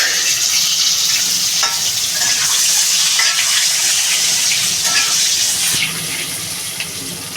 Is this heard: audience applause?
no